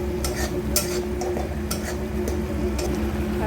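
A spoon scrapes and taps against a pan as a spice paste of turmeric, salt and red chili for egg curry is sautéed, with irregular metallic clinks over a low hum.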